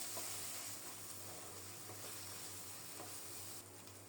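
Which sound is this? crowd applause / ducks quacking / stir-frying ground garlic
stir-frying ground garlic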